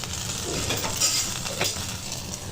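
A stuffed chicken burger patty fries in a pan while a spoon turns it, giving a steady, close sizzle with light scraping and clinks of metal, heard alone with no talk.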